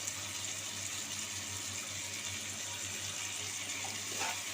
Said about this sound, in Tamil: இப்போ வந்து கொஞ்சமாக தண்ணி சேர்த்துருக்கேன்